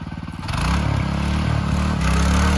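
A Sraja power weeder rotavator engine runs in second gear, a loud, steady, close mechanical drone with rhythmic clattering, rising in level just after the start and staying constant throughout.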